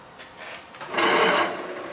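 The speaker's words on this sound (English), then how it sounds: "Turn the machine on." A cylinder sleeving machine starts up at a sand sports shop, a brief rising mechanical whir that swells near the middle and then eases to a steady hum, close and alone.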